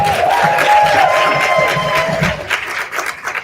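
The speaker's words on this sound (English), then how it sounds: "a round of applause" An audience at a women's summit lunch plenary claps and cheers, a loud, dense wash of applause with a sustained whistle or cheer riding over it, tapering slightly toward the end.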